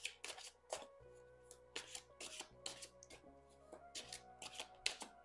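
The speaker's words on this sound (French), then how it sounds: "le temps que je batte les cartes" Tarot cards shuffled by hand in a quiet room, a series of crisp riffling and slapping bursts in an uneven rhythm, close and clear, with faint background music.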